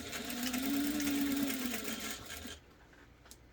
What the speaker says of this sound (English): I'm going to end up sewing right through it in the back